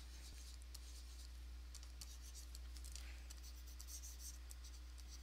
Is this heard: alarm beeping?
no